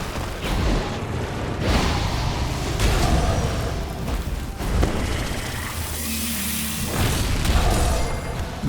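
Explosion attack by the monster Magmala in the video game Monster Hunter Stories 3: dense, loud booming bursts and rumbling blasts recur across the stretch, with mechanical game effects layered over continuous heavy noise.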